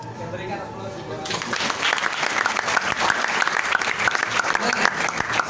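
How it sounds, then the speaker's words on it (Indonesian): Audience applause at a seminar-style event starts abruptly after a brief moment of low murmur, then swells into steady, dense clapping from a large crowd that carries on loud and continuous. "Saya berikan aplaus juga."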